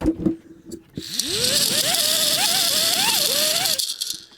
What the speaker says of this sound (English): there's that thing that spins, I guess, if you blow into it